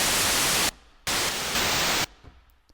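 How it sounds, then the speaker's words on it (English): White noise from an 8-bit chiptune synth plugin, played as two loud bursts of harsh full-band hiss, the first short and the second longer, each cut off abruptly and followed by quiet. "Noise. This is fun. This is just a white noise."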